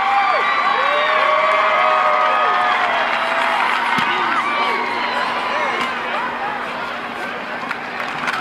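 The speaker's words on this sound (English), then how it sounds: "You can hear the crowd." A large stadium crowd at a college football game cheers and roars loudly and steadily throughout, with whoops and a commentator's voice layered over the dense crowd noise.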